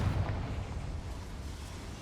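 An explosive Confringo spell blast from the video game Hogwarts Legacy, heard as a deep, rumbling boom with a slightly stronger start that stays heavy and sustained for about two seconds, with no talking.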